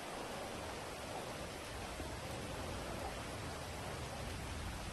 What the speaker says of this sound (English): What the fuck is it raining for, bro?